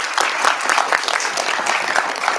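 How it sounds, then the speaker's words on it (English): An audience claps warmly after a question-and-answer session at a late-evening science event, a dense, loud burst of applause that holds steady throughout with no voices on top. "So huge round of applause for you guys"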